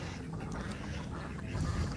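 Indonesian village ducks, including adult drakes and hens, quack in a rough, near flock chorus that runs steadily through a short stretch with no talking over it.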